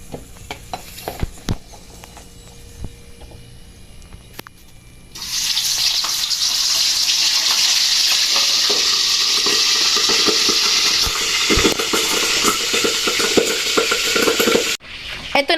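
Chicken feet dropped into hot oil burst into a loud, dense, continuous sizzle and crackle, coming in after a few seconds of light clatter and holding steady close by until it cuts off near the end.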